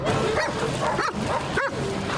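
Several dogs bark and yip at an outdoor dog swimming event, with three or four sharp barks spaced about half a second apart. They sit close over a steady wash of crowd and water noise.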